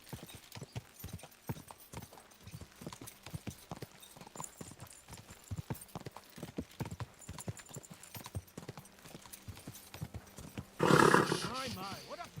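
Rapid, rhythmic hoofbeats of a galloping horse in the video game Kingdom Come: Deliverance II thud steadily throughout, with a brief louder roar-like burst near the end.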